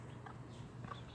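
Two laying hens give a few soft, short clucks in a sunny backyard garden. The clucks sound faint and somewhat distant over steady low background noise.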